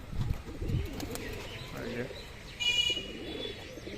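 Desi giribaz pigeons coo softly at close range in a home loft, with a few chirps and rustles, while someone talks over them.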